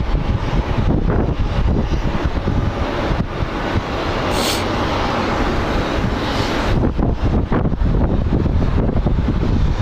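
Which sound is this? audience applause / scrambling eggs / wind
wind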